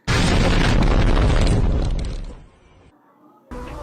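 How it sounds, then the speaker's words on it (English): A rocket explosion in a fan-made tower defense video game, a loud booming blast that swells, rumbles and fades over about two seconds before a cut to a fresh burst. "you get an explosion before the rocket itself"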